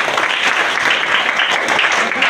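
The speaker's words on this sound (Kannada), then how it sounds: "ಕೊನೆಯದಾಗಿ ಎಲ್ಲ ಪಾಲಕರಿಗೂ ಜೋರಾದ ಒಂದು ಚಪ್ಪಾಳೆ" Sustained applause from parents at a school parents' meeting, a dense, steady clatter of many hands clapping together throughout, fairly loud and without pauses.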